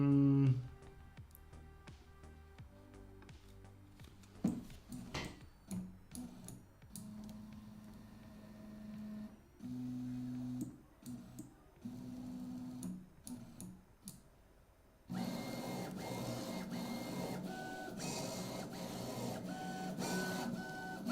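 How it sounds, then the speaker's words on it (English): A self-built Core-XY 3D printer runs its motion test with stepper-motor tones shifting in pitch, rhythmic ticking and clicking, then a louder, rougher whirring as the Y axis moves and a ball bearing rattles, with no talk. "So now you hear Y is louder, but not from vibration, but you hear the ball bearing."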